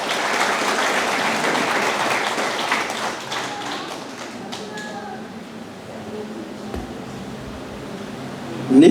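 An audience at a children's graduation ceremony applauding a graduating student, full clapping at first that thins and fades over several seconds, with a voice heard near the end.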